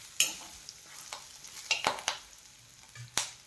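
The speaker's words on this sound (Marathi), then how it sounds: "त्यानंतर आपण ही भरलेले वांगे यामध्ये टाकून घ्यायचे आहेत आणि मिक्स करून घ्यायचे" Stuffed brinjals are stirred and fried in hot oil in a wok, with sharp spatula scrapes and clinks over a quiet, soft sizzle, all close and fairly faint.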